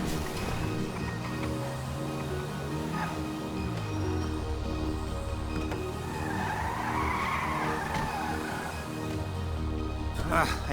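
A truck engine drones and tires squeal and skid repeatedly in Grand Theft Auto 5 Online, the pitched motor whine rising and falling while someone talks over it.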